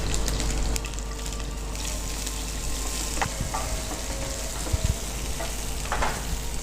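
Chopped onions fry in a hot pan with mustard seeds, urad dal, cumin and pepper for a Mangalorean beaten-rice dish, giving a steady close sizzle with a few faint clinks of stirring.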